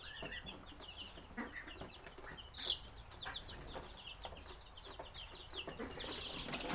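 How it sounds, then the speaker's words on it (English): Ducks on a farm give repeated, faint quacking calls at an irregular pace, with soft outdoor background noise between the calls. "We got a 4-month-old quacking back at the ducks."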